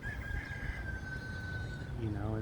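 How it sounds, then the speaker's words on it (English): A rooster crows once in a long, drawn-out call at moderate distance, with steady outdoor background noise and a few clucks near the end. "there's a rooster in the background"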